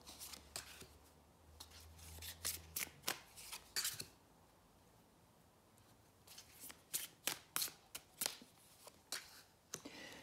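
Tarot cards are shuffled by hand, with clusters of crisp riffling slaps and flicks in uneven bursts, close and fairly quiet, pausing briefly in the middle before resuming.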